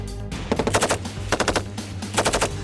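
A British Army light machine gun fires in three short automatic bursts, each a rapid run of sharp, loud shots separated by brief pauses.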